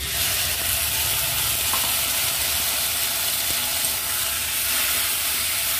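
Fried vegetables and gadal leaf paste are stirred in a frying pan, giving a loud continuous sizzle with a broad steady hiss and faint scraping underneath, with no voices.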